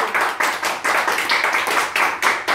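People clap together at a child's tenth birthday party, a steady run of bright, rhythmic handclaps in quick bursts, loud and close, filling the whole moment with no talk over it.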